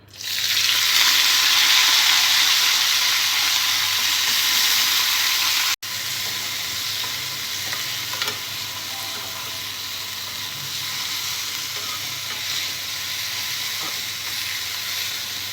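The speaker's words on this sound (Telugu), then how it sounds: "పచ్చిమిర్చి ఫ్రై చేసుకున్న ఇదే ఆయిల్లో గోంగూర పూలు వేసుకోవాలి." Sorrel (gongura) flowers frying in the oil already used for green chillies: a loud, close sizzle and crackle that holds steady throughout, with a brief dip partway through.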